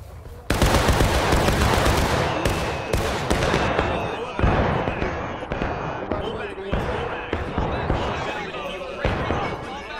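Musket volley fire in the Civil War video game War of Rights, a loud burst of many overlapping shots followed by scattered crackling gunfire, with distant shouting beneath.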